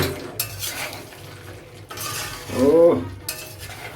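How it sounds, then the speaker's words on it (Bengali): A spoon stirs homemade aloo chicken korma in a pot with a splash of hot water, scraping and clinking against the metal in close, uneven strokes, with a brief squeaky scrape midway and a faint word spoken. "এটাকে ভালো করে মিশিয়ে দিচ্ছি।"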